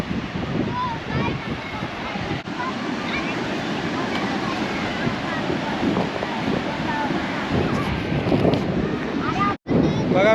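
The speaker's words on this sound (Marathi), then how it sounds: "पाण्याचा आवाज येत असेल तुम्हाला." Sea waves wash continuously at Diveagar beach, a broad steady surf roar mixed with wind buffeting the microphone, while people talk now and then over it.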